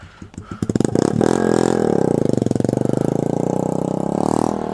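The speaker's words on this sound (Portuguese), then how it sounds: "escutei o barulho da tua moto" A motorcycle engine runs loud and close, sputtering through a few uneven pulses before settling into a steady, rapid putter that continues throughout.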